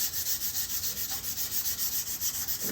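Steady back-and-forth sanding of a wooden gunstock freshly coated in Tru-Oil finish, a dense scratchy rasp in even rapid strokes, close and fairly loud with no talking.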